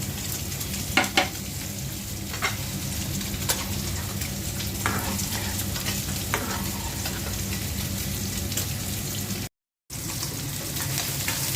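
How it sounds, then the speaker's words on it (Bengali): Steady, close sizzling of tilapia fish frying in hot oil, with a few light clinks of stirring and a brief dropout near the end. "মাছ ভাজা হয়ে গেছে তেলাপিয়া মাছ"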